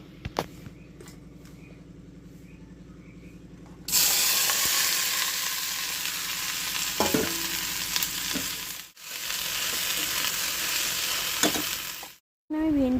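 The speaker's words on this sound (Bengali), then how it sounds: "সবজিটা ভেজে নিচ্ছি" Okra tipped into a hot wok bursts into a loud, sustained sizzle after a few quiet seconds, with scrapes of stirring and a brief dip near the end.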